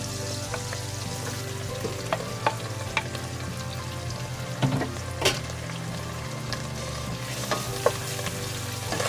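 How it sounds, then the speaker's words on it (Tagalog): Garlic goes into a pan of hot oil for menudo and sizzles steadily, with repeated stirring clicks and scrapes of a utensil against the pan throughout; no one speaks. "Isunod ko na guys yung ating bawang."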